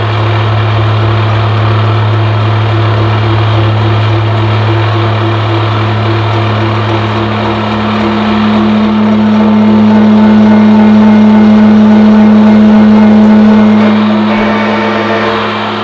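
A horizontal boring mill makes a light ten-thousandths cut on shop-made angle plates at increased spindle speed. It gives a loud, steady machine drone with a strong humming tone that swells slightly partway through, and no one speaks.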